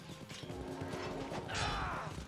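Horse hooves in a video game clip-clop at a steady gallop with a whinny-like cry and mechanical clatter, fairly quiet in the game mix.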